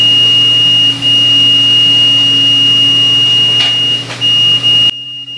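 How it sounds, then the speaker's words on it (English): A laser machine sounds a steady, high-pitched constant beep over a low electrical hum, loud and unbroken for several seconds, with a few faint clicks near the end before it stops. "it shouldn't be a constant beep, it should be like full on beep, beep, beep"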